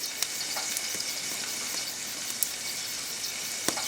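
Herb and mushroom béchamel sauce heats in a pan on the stove with a steady, soft bubbling sizzle and occasional faint clicks and scrapes of stirring.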